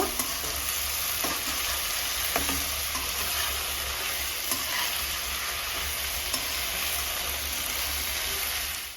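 Fish head with pumpkin greens fries in a pan with a constant sizzle and hiss, while occasional soft scrapes of stirring rise above it close by.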